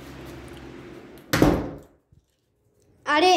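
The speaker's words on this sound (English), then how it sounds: "I didn't mean to slam the door." A door slams shut with one loud, sharp broadband bang inside a cardboard box and blanket fort, fading quickly into near silence before a person starts talking close by.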